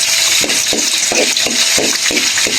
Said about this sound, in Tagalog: Magigisa muna tayo ng bawang at luya